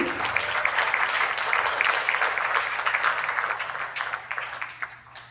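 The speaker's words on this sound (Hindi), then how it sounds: "एक बार जोरदार तालियां" Loud audience applause at a Hindi community stage event, dense steady clapping that carries on for several seconds and thins slightly toward the end.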